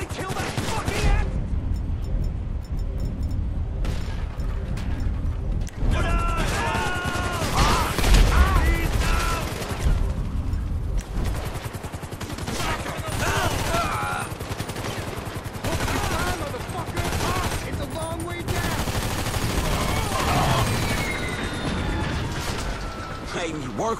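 Dense, rapid gunfire in the video game GTA V, bursts of automatic and single shots crackling loudly almost nonstop, mixed with people shouting over the shooting.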